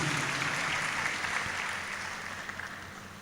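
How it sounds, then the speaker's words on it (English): Steady applause from a large crowd at an engineering college graduation ceremony, a dense wash of clapping that holds at an even level for a few seconds before easing slightly. "A big round of applause and congratulations to all of you."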